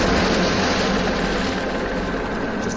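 Helicopter rotor and engine drone steadily and loudly, close and constant throughout, while it carries a car out over the ocean in a James Bond film scene.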